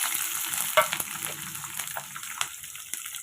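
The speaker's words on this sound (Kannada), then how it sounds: "ಇದು ಈಗ ಇದಕ್ಕೆ ನಾನು ಕಟ್ ಮಾಡಿ ಇಟ್ಕೊಂಡಿರೋಂಥ ಈರುಳ್ಳಿ ಮತ್ತು ಹಸಿಮೆಣ್ಸಿನ್ಕಾಯಿ ಎರಡನ್ನೂ ಹಾಕ್ಕೊಳ್ತಾ ಇದ್ದೀನಿ." Onions and green chillies frying in hot oil in a pan, a steady close sizzle with faint stirring clicks and scrapes throughout.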